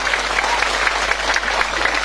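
Steady applause from an audience at a Sundanese-language Islamic sermon by KH Ubaidillah, dense clapping filling the whole moment at an even, loud level.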